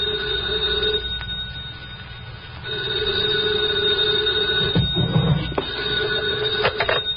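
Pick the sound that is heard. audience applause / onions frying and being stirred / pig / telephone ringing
telephone ringing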